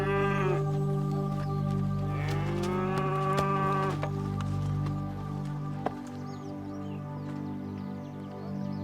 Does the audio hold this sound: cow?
yes